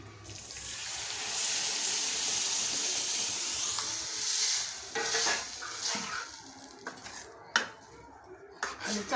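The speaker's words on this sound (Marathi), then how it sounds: "तर ही भाजी आपण याच्यात ओतून घ्यायची." Wet green chickpea-leaf vegetable curry poured from one pot into another, a sloshing wet pour followed by clinks and scrapes of metal cookware.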